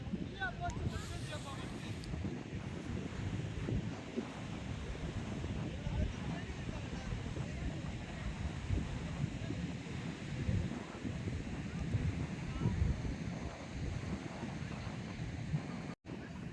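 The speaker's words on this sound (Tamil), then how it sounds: "நம்ம இன்றைக்கி திடீர்னு காரைக்கால் பீச் வந்தோம்." Wind buffets the microphone at Karaikal beach with a constant low roar, and faint surf is mixed into the steady noise.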